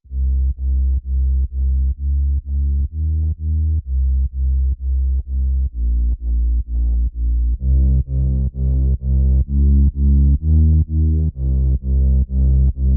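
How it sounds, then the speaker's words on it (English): A deep Serum synth bass patch for bass house pulses in short, evenly spaced sidechained hits under FM keys chords, steady and loud with no voices. "The bass underneath the chords is also the Serum patch, and it sounds like this."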